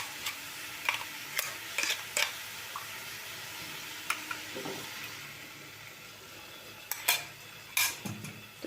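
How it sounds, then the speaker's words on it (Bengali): Spiced fish curry with potato and cauliflower being sautéed over a low-medium flame, a soft continuous sizzle broken by intermittent scrapes and clinks of a spatula stirring in the pan. "লো টু মিডিয়াম ফ্লেমে আমি এটাকে এখন কষাবো।"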